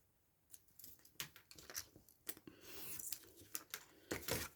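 Scissors snipping paper for a pocket booklet envelope, a run of close, quiet crisp cuts and rustles at an uneven pace with no talking.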